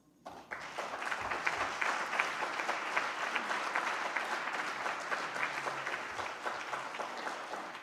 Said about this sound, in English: Now, you applaud the university and its president for that